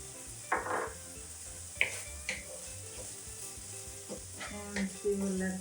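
Seasoned food frying in a pan with salt, black pepper, paprika and curry, giving a steady sizzle with occasional stirring scrapes and light utensil clinks, close and moderately loud.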